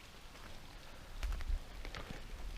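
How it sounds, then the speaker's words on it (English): Faint, steady patter of light rain near a concrete-deck bridge over Owens Creek in Cass County, with a few scattered drips and a low rumble of wind in the background. "It's raining a little bit."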